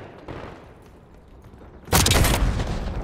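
A frag grenade goes off in Call of Duty Black Ops 6, a sudden loud close blast after a quiet lead-in, followed by a rough roaring tail of debris and rumble.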